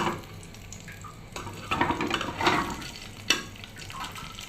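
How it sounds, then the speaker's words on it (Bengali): Chicken pakora frying in a pan gives soft sizzling and stirring sounds, fairly quiet, with a few louder bursts of spatter and scraping and no talk. "ভেজেছি, হয়ে গেছে আমার মাংস। চিকেন পাপোড়া বলা যায়"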